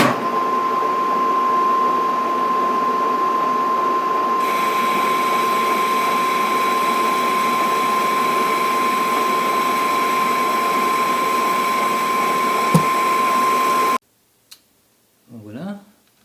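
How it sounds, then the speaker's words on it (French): A machine rebores a bore for a new bearing on the HOLDER AM2 prototype, giving a loud steady machining whine with a constant tone for about fourteen seconds, then stopping abruptly before a brief voice. "Reprise de l'alésage pour le nouveau roulement"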